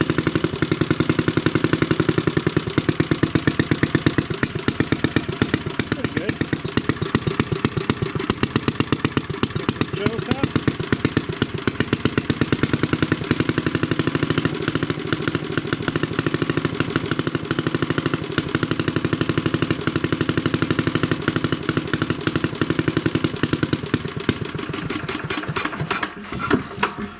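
A 1937 Briggs and Stratton Model A engine runs after a cold start, a steady rapid chugging clatter that stays loud and close for the whole stretch without pause.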